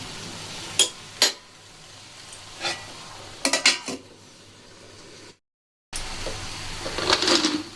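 Vegetables being turned over and frying in a pan: a few scraping stir strokes and utensil knocks over a steady low sizzle, with a short dropout and then more stirring and frying.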